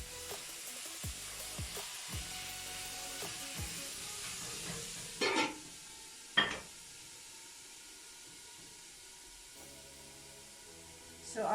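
Onion and shredded turkey fry in a pan, with a close, hissing sizzle and a few knocks of a utensil, then two louder clatters before the frying fades to a quiet hiss.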